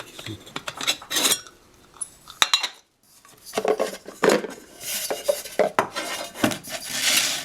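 A GSI Catalyst camping cook kit handled up close, its metal pots, bowl and cup clanking and clinking in irregular bursts with short quiet gaps, no one speaking.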